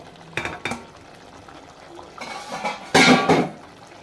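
Fried chicken is tipped into a pot of nearly cooked rice and mixed over high flame, giving a few clanks of the utensil against the pot and then a louder, close rush of scraping and stirring.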